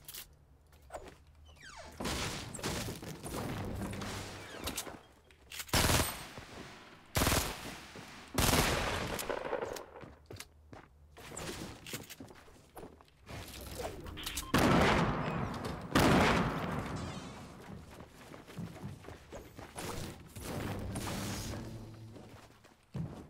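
Video game gunfire, with bursts of loud shots and rapid volleys spread across the span, separated by short lulls and mechanical clatter.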